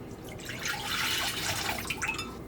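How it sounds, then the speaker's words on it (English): One cup of whole milk poured into a bowl for a tres leches cake, a steady close trickling splash lasting a couple of seconds at low volume with no talk. "It's 1 cup of the whole milk. So let's pour that in."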